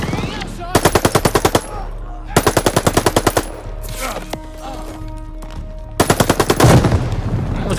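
Rapid automatic gunfire from the World War II shooter Call of Duty: Vanguard, on PC, comes in three loud bursts of machine-gun fire separated by pauses filled with battle noise and faint shots.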